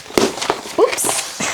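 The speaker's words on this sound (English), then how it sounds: "sorry about the clattering noise there." Brief clattering of objects being knocked about during an unboxing, a few sharp close knocks and rattles spread over a second and a half, with a short vocal sound among them.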